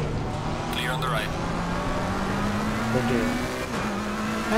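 Race cars in Assetto Corsa Competizione roar past one after another, engine notes sweeping up and down with a brief tire chirp, loud and close under the driver's steady commentary.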